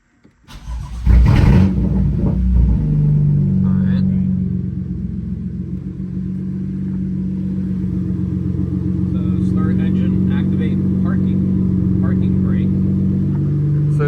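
A BMW F80 M3 cranks with a sharp burst, then settles into a loud, steady, deep idle rumble that runs on without letup, with brief talk and a few faint clicks over it.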